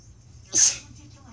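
A single sharp sneeze bursts out close and loud, brief and abrupt against a quiet background.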